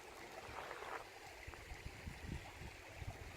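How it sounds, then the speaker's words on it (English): Water running in a stream on a wooded 40-acre rural property, a steady broadband rush with low gurgling pulses, fairly close and continuous, with no voices over it. "And you can hear that water running."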